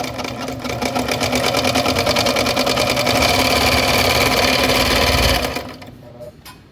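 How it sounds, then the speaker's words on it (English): A Baby Lock BL3 3-cone serger runs at steady speed while overlocking a piece of denim, giving a loud rapid mechanical whir that stops after about five seconds, with no talking. "if we just go ahead and drop this piece of denim in here and try it out, it should just run real smooth"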